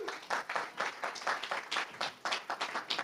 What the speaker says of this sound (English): So, round of applause for the startups